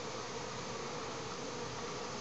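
Swarm of honey bees streaming out and hovering in front of their hive on orientation flights, a steady dense buzzing drone that holds evenly throughout without pause.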